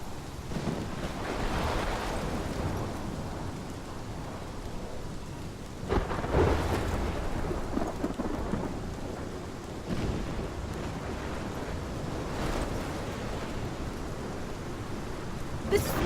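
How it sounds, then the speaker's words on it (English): A heavy thunderstorm in the Life is Strange video game: steady, dense rain hiss layered with deep rolling thunder rumbles that swell several times, filling the whole stretch without letup. "This is my storm."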